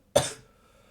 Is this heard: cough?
yes